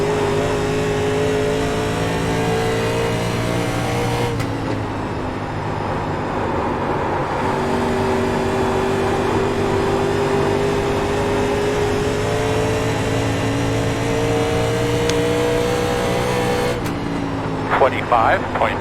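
Race cars in a winter series at the Rockingham track drone steadily and loudly throughout, with engine notes rising and shifting as cars pass, a continuous wash of motor noise that could also carry faint voices.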